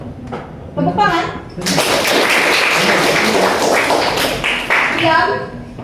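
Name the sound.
children clapping hands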